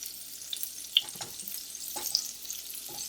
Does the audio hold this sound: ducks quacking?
no